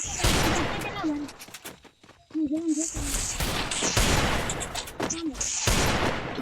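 Shotgun blasts in a video game, several sharp bursts spread across the stretch, mixed with game effects and someone talking over them.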